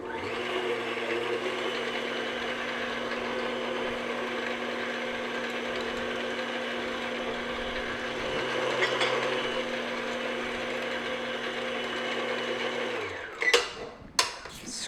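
An electric mixer beats large eggs into butter tart filling, a steady, close, motorized whir that holds for about thirteen seconds before switching off, followed by a few sharp clatters.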